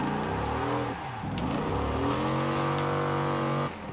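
Car engine in the Forza Horizon 4 racing game, revving loud and steady with shifting pitch through a handbrake turn, dipping briefly before climbing again, with no talk.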